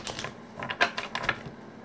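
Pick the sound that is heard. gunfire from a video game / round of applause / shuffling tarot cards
shuffling tarot cards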